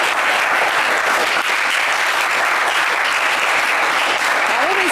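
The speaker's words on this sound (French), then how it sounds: "ils méritent plus d'applaudissements que ça encore" Studio audience applause on the French game show Le Coffre Magic fills the clip, a loud, dense, steady wash of clapping from a crowd, continuous with no speech over it.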